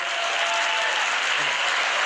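A wedding comedy show audience breaks into steady, dense applause, loud and continuous for the whole stretch with no voices on top.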